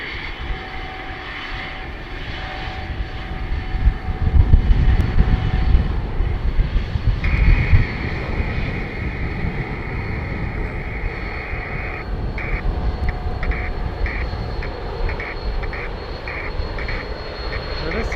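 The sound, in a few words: Summit Air aircraft taxiing for departure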